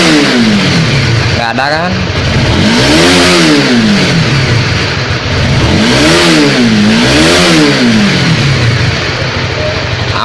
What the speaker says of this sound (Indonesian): Ini kita gas konstan, biasanya langsung berbat ya.